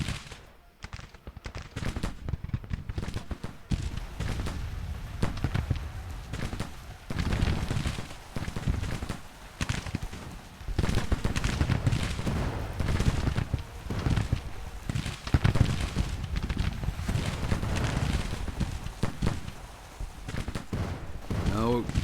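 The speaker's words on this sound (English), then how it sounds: "Get some shots in there." Civil War musket volleys in Grand Tactician, ragged crackling bursts of massed rifle fire repeating throughout at mid distance, with a voice talking over parts of it.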